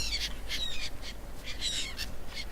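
Birds caw repeatedly in the Stranded Deep survival game, a series of harsh rhythmic calls heard at moderate distance over steady ambient wind or surf noise.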